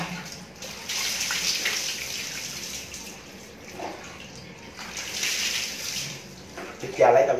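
Tap water runs and splashes as whitening cream is rinsed off skin, a soft steady flow with brief louder gushes, while a person keeps talking over it.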